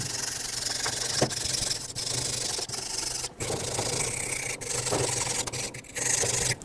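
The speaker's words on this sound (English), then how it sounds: "with a wire brush, I'm going to gently clean off this surface here" A wire brush scrubs rust and brake dust off a brake surface on a 2015-2020 GMC Yukon, giving close, steady rasping strokes with brief pauses between passes and no talking.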